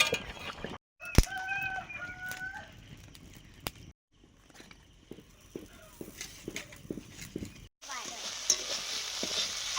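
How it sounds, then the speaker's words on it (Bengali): Jute leaves fry and get stirred in a pan in a rural home kitchen, making a steady close sizzle with scraping stirs, while a rooster crows in the background early on. "পাট শাক ভাজা হচ্ছে"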